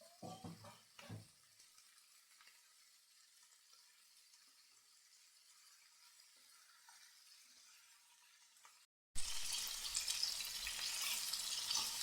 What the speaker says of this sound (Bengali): দেখুন আমার চিকেনগুলো ভাজা হয়ে গেছে, আমি উঠিয়ে নিচ্ছি চিকেনগুলোকে।